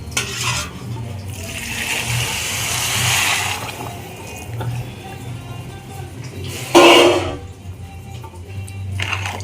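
Water pours and splashes into a pot of rice already fried in oil for wedding-style biryani, a long hissing stream followed by a sharper splash near the end, close and without talk.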